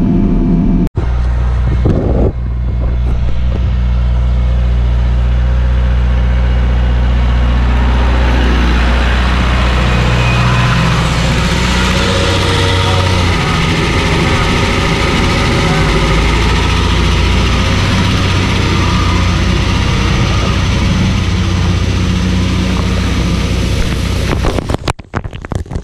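Farm tractor engine running steadily while spreading cow urine across a field, a loud, close, continuous low diesel drone with wind buffeting the microphone, cutting off near the end.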